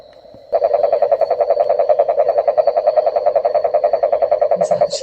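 Bullfrogs croak loudly and steadily beside a lake at night in Northern Nicaragua, a dense, rapid pulsing chorus that begins abruptly and carries on close and strong, with no talking.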